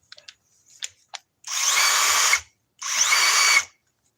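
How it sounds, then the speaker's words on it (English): A power drill set to drill mode runs in two sustained bursts of about a second each, whining steadily and close by, after a few brief clicks and taps from handling the tool. "Okay, now I got it in drill mode."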